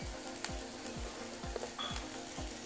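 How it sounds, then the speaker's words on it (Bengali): Chopped potatoes fry in a pan with a soft, steady sizzle, under a regular low thumping rhythm of stirring or a background motor, fairly faint throughout. "মিনিট 5 নাড়াচাড়া করে আলুগুলো ভেজে নিয়েছি হালকা"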